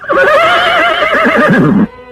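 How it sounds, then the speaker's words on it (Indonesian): A horse neighs loudly and close, one long wavering whinny lasting nearly two seconds before cutting off. "Kuda itu meringkik keras dan segera menghentikan larinya yang bagaikan terbang rendah"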